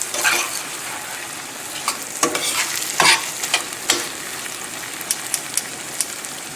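Shrimp sizzle in a hot pan over a very high flame with salt and pepper, a constant hissing fry broken by scraping clicks and knocks as they are stirred around, close and busy.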